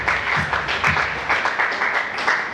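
Church audience applauding for a visiting pastor at an Urdu-language service, a fairly loud, steady stretch of clapping from many hands with a few louder individual claps, heard close.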